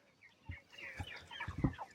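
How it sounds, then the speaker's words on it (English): Chickens clucking inside a farm's poultry house, several short bursts of soft clucks and bird chatter scattered across a couple of seconds, close by with a low barn hum underneath. "Hey chicken birds."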